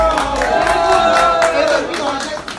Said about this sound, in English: The people were like clapping for him sarcastically